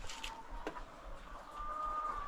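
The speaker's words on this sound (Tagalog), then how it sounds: "Oh, may mga manok pa pala dun oh" Chickens in coops on a Filipino poultry farm cluck and call in short, scattered bursts over a soft ambient background, near enough to be clearly heard, with no talking.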